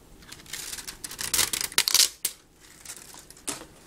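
Protective plastic wrap on an Asus Eee PC 1015PN netbook crinkles and rustles as it is handled, in several close bursts of varying loudness with quiet gaps between them and no talking.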